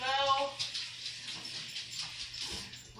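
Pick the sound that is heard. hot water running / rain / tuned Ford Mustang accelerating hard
hot water running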